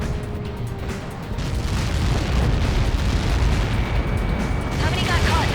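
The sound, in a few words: missile impact explosion in video game Ace Combat 7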